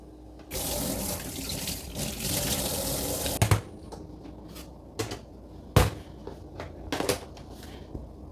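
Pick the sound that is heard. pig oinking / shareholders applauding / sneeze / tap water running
tap water running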